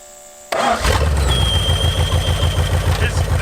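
An old Mopar muscle car engine cranks and catches for the first time in 35 years, then settles into a steady, rumbling idle with a faint whine above it from a throttle shaft vacuum leak, close by and loud.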